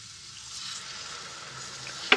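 Milk poured into moong dal halva cooking in a pan, a soft, steady sizzle that swells gently, ending in a brief sharp clink.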